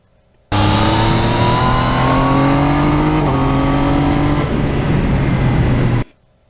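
A 2020 Yamaha MT-09 motorcycle engine pulls hard through rising revs with quick-shifter gear changes, pitch climbing then dropping at each shift, loud and close for about five and a half seconds with no talk.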